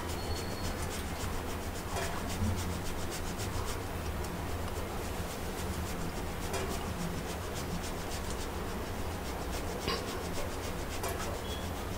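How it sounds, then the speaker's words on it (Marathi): Boiled sweet potato rubbed against a grater into a bowl, a continuous soft scraping and rasping with faint intermittent clicks, steady and close throughout. "तर आता उकडलेले रताळे त्यात आता आपण किसून घेऊया."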